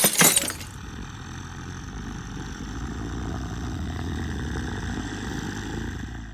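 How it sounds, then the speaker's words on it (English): Glass smashes in a sudden bright, crashing burst at the very start, then gives way to a low, steady rumbling drone that lasts to the end, with no voices. "The sound of glass smashing broke his stupor."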